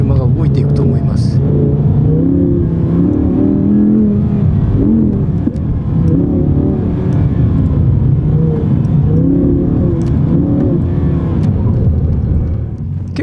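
Audi R8 sports car accelerating through a slalom course, a loud, close engine rumble that swells and eases in repeated waves as the throttle opens and lifts.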